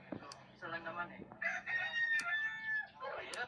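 Chickens in a relative's coop, with a rooster crowing and hens clucking close by, the calls rising in bursts over a quiet background and no one talking.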